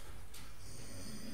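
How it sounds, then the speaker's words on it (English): Loud snoring in a staged theatrical production, a rough rasping breath with low rumbling tones, heard alone at close range. "it's the sound of loud snoring."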